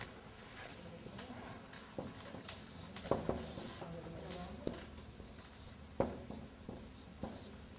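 A teacher writing on a board in a classroom produces soft scratchy strokes and occasional sharp taps, faint and intermittent, with a quiet voice murmuring in the background.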